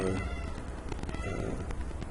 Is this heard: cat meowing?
yes